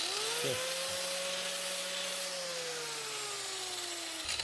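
A plated golf wedge is being sanded with roughly 100-grit abrasive, producing a faint, steady rubbing hiss with a constant motor-like tone throughout, heard alone without talking.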